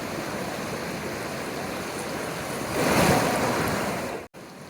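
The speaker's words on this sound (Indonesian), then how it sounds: "Yang ada, sungai buat cuci-cuci sama main air." River water at Kebon Jeruk camp on Rinjani rushes steadily in a broad, close wash, swelling louder for a moment near the end before a brief dropout.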